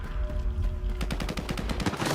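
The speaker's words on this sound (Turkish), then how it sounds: "Abi yola koyulur koyulmaz etraftan silah sesleri gelmeye başlıyor." Gunfire in the video game STALKER 2 breaks out after a second of quiet ambience, a rapid string of sharp automatic shots and bursts, close and loud.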